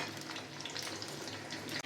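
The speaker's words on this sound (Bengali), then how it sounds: "মাছগুলো আমি ভেজে নেব।" Fish pieces fry in hot oil in a pan for garlic fish, a soft, continuous sizzle and crackle heard up close and fairly faint, steady throughout with no talking.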